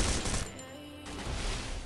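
Rapid bursts of gunfire in the video game Free Fire, loud and dense, a continuous rattling volley with a short lull in the middle.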